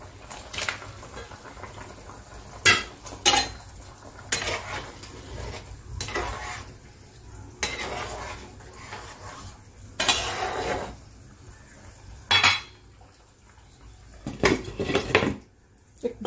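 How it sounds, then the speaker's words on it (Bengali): Metal pot and utensil clatter while fried shing fish goes into a boiling, thin Bengali curry with raw banana, a few sharp knocks and scrapes over a faint low simmer, with no talk. "ঝোলটা ফুটে গেছে, এবারে আমি ভেজে রাখা মাছগুলো দিয়ে দিচ্ছি।"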